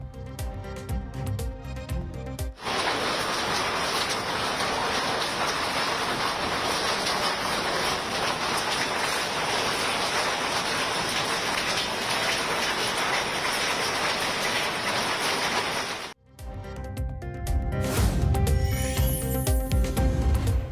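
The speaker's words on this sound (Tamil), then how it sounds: "உத்தரகண்ட் மாநிலத்தின் பல்வேறு பகுதிகளில் வெளுத்து வாங்கும் கனமழை" Heavy rain pours down in Uttarakhand as a loud, steady roar that runs unbroken for most of the stretch, with a brief break and a change in texture near the end.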